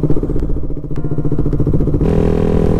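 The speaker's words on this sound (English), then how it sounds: "My Kawasaki Z125 Pro." Kawasaki Z125 Pro motorcycle under way, its small engine burbling loudly and close with a rapid pulsing beat, then shifting to a higher, smoother drone near the end, no speech.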